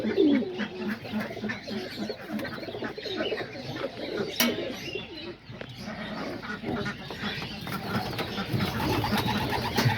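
Homing and roller pigeons fill a flying loft with continuous soft, throaty cooing and rustling, many birds overlapping closely at a steady moderate level with no voices.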